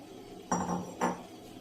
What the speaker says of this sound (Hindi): थोड़ा थोड़ा डालते जाएं और चम्मच चलाते जाएं।